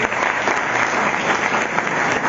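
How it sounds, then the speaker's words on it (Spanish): Sustained audience applause at a law conference, dense and steady clapping from a crowd welcoming an invited guest, filling the whole moment without pause. "Un aplauso para este invitado."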